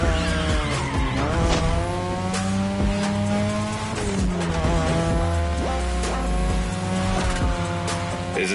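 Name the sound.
2002 Mazda RX-7 rotary car racing in The Crew Motorfest video game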